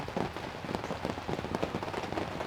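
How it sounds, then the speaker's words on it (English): Pouring rain in the woods during a bowhunt in Ohio, drops patter close and steadily on leaves and surfaces in a continuous soft roar, with no talking. "Sit back here and watch it rain a little more."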